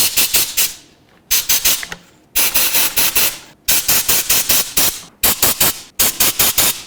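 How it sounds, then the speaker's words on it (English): Compressed air blasted around the fuel injectors of a 2004–2015 Nissan Titan: loud, harsh hissing bursts, each a cluster of rapid pulses, repeated about six times with short silent gaps between them. "I'm going to take some compressed air and blow around all of the injectors"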